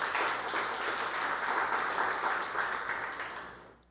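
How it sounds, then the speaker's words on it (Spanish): Congregation applauding during a church sermon, a dense steady wash of many hands clapping that holds for several seconds and then fades out near the end. "Dámele un aplauso al Señor."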